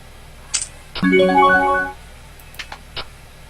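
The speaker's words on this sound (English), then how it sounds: "I've got a ringing phone here." A phone ringtone chimes in a short rising melodic burst, preceded by a faint click and followed by a few soft taps, heard close and alone.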